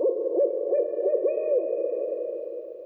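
An owl hoots in a repeated soft, wavering series, close and clear against silence, with a faint higher tone drifting in behind.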